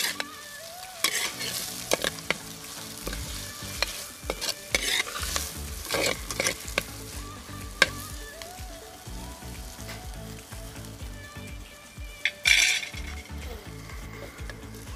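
Green chillies and curry leaves fry in hot oil in a pan for a Kerala fish head curry, giving a steady close sizzle with intermittent stirring scrapes and a few sharper pops.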